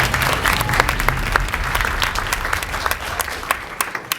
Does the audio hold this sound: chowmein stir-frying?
no